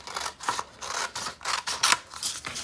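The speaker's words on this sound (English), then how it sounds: "When you've got it up, you cut along this line" Scissors cutting green paper for origami, a series of crisp rhythmic snips about every quarter second, close and clear with no talking.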